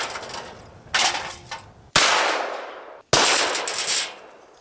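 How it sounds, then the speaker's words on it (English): A .22 rifle fires at a gold medallion target. Three sharp, loud cracks come at roughly one-second intervals, each followed by a fading ring, with no voices. "we're gonna shoot the gold medallion, see how you do against this"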